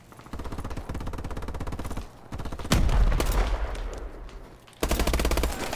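Rapid automatic gunfire from the video game Call of Duty Advanced Warfare, with bursts of shots, a brief pause, a heavier blast-filled stretch, then another loud burst near the end, without speech.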